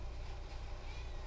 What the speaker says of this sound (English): And now he's meowing at me.